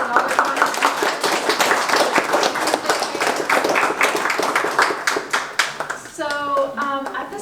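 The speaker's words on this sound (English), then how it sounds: "if we can just give a little round of applause to our candidates and all their contributions" Member assembly audience clapping for board candidates, loud and close with brisk dense applause that thins toward the end, where a few voices and a short sung or spoken phrase rise over the last claps.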